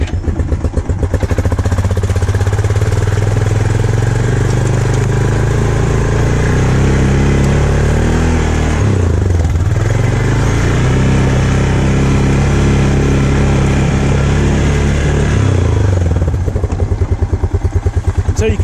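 A four-wheeler fitted with tire chains driving through snow, its engine droning loud and close throughout, with a rhythmic clatter from the chains and a dip as the throttle eases mid-run.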